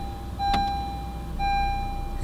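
A car dashboard chimes an oil-change warning: two clear electronic beeps about a second apart, fairly loud over a low steady engine-like hum inside the car.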